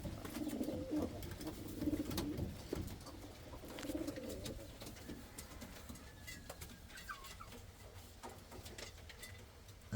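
Indian fantail pigeons in a loft give low, repeated throaty coos, with scattered sharp ticks and small chirps over a soft background hiss.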